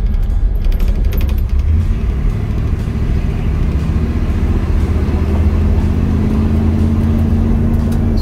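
A 1968 Chevrolet Impala SS with a 327 V8 and automatic transmission cruising on the road, with a steady, smooth, mellow engine rumble and hum from inside the car, continuous and fairly loud.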